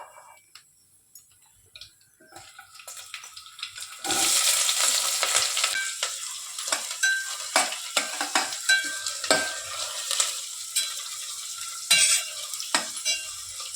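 Onions, green chillies and curry leaves drop into hot oil for rice usli. After a quiet start, a loud close sizzle bursts out and carries on steadily, with spoon scrapes and clicks as the mix is stirred.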